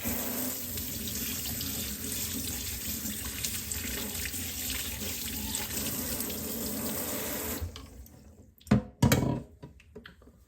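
Running tap water steadily pours over a removable part of a DeLonghi Magnifica coffee machine during cleaning, a continuous close hiss that stops abruptly near the end, followed by a few sharp knocks and handling sounds.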